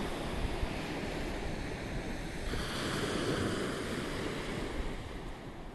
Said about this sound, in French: Je te laisse un dernier instant avec la mer, l'océan.